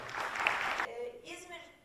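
A short burst of audience applause at the opening of the 9th İzmir Children's and Youth Literature Days, welcoming the Ege Çağdaş Eğitim Vakfı board chair onto the stage; dense clapping fades quickly and a voice begins talking.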